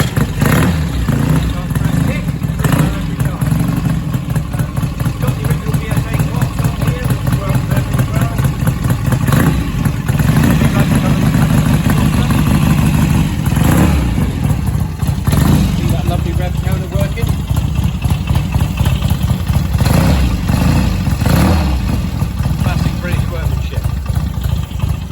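A BSA A50 motorcycle fitted with an A65 engine runs at a steady idle, a loud, continuous throbbing beat that carries on unbroken for the whole stretch.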